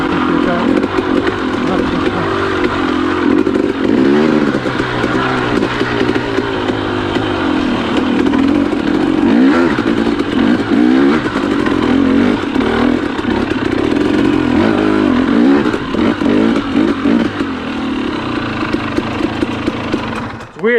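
Someone's motorcycle engine running rough, a loud, uneven drone with wavering revs and clattering, close and continuous while a voice talks over it.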